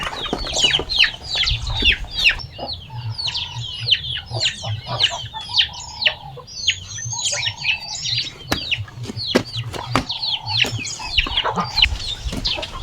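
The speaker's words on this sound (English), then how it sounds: "now it is the small chicks that we are going to feed them" Small chicks at feeding time make a busy, continuous stream of high peeping and clucking chirps, close and lively, with no talk over them.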